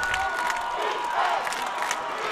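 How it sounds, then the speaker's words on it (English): A crowd at a Friday night high school football game, Exeter against Berks Catholic at the Farina Sports Complex, roars and cheers steadily in a big open-air mass of sound, with faint shouts and whistles. "This crowd is alive here at the Farina Sports Complex."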